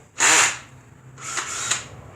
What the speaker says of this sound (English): So I got my cordless Ryobi drill,